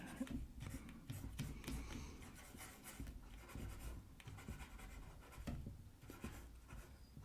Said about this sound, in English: Now that I'm drawing it, fleshing it out, it looked better in the sketch.